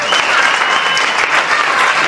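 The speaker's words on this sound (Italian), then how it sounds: "fatemi un applauso" Audience applause at a live Italian rap music show, a dense, steady burst of many hands clapping close by, with faint crowd voices mixed in and no clear speech.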